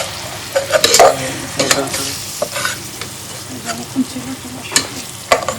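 Potatoes being sautéed and mashed in a hot frying pan with spices for chop filling, heard up close as a soft sizzle under irregular spatula scrapes and thumps, a few sharper knocks standing out.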